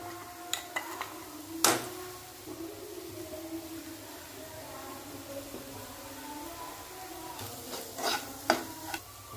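Spices and ground masala paste roasting in oil for a malai palak dish: a faint, steady sizzle with a few sharp clinks and scrapes of a spoon stirring against the pan, grouped at the start and the end.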